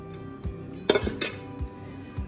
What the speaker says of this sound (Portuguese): Deixa eu dar uma raspadinha aqui nessa panela.